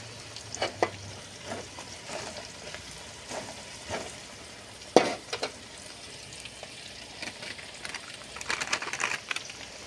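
Onions and dried red chilies fry quietly in oil, soft irregular crackles and pops rising now and then over a low, faint hiss.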